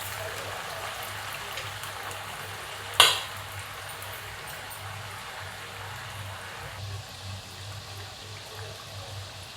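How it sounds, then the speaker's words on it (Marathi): Chakli dough dropped into hot oil, starting with a sharp splash-sizzle and then a steady, even bubbling fry that continues to the end. "तेल तापलं का बघते सोडून बघते एक"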